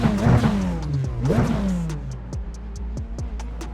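The engine of a Radical SR10 race car roars and revs up and down in the iRacing sim, with pitch sweeps and turbo whine, then settles into a lower, ticking idle-like rhythm.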